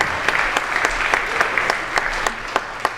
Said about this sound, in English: Give a round of applause for the year 2010.